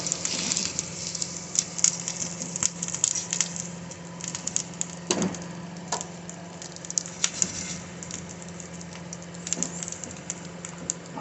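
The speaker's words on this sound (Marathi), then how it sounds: "आता आपण हा पाव शेकूया तेलामध्ये फ्राय करून घेऊ" Pav bread frying in oil in a pan for vada pav, giving a steady, moderately close sizzle with soft crackles and patters throughout, no talk.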